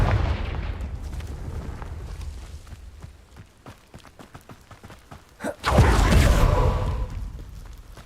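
A Confringo blasting spell goes off in Hogwarts Legacy, a loud booming burst after a stretch of quieter scattered thuds and footsteps, with a rumbling tail.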